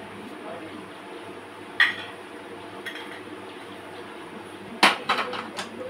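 Metal spatula scraping the bottom of a hot cooking pan in a home kitchen, a few sharp clinks and scrapes standing out against a low steady background hum, with a cluster of quick metallic knocks near the end.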